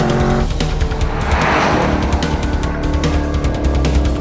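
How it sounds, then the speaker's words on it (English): A 2014 Chevrolet Camaro Z28 driving along a winding Alabama road, its engine a continuous loud roar with steady tire and wind noise, no talking. "rocking along in the Z28, and what a beast of a car this thing is"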